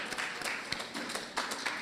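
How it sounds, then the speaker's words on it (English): An audience at a white coat ceremony claps in steady applause, a dense patter of many hands heard from a moderate distance with a few sharper individual claps. "I believe she deserves a rousing round of applause"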